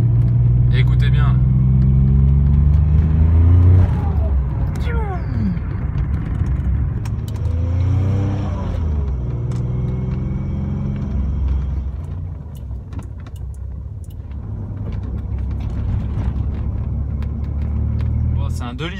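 A 1994 Maserati Ghibli with a 2.8-litre twin-turbo V6 revs up twice in deep, rising sweeps, close and loud, while people talk over a steady idle rumble.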